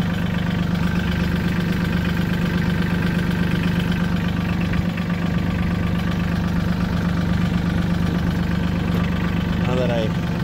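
A tractor engine idling nearby, making a loud, continuous, even rumbling drone that holds steady for the whole stretch.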